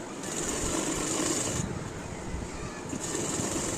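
Sewing machine stitching a suit, a fast continuous mechanical whir running close and steady, with the needle's high hum dropping out for a moment midway before resuming.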